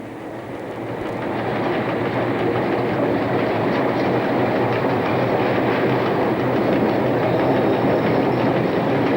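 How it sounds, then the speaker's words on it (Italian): A 1990s Ferrovie dello Stato train runs on the Trieste line, leaving a junction tunnel near Gretta; a steady, loud rolling rumble with rhythmic wheel clatter builds over the first two seconds and then holds, no voices. "Il treno evita così la fermata ed esce dalla galleria del raccordo"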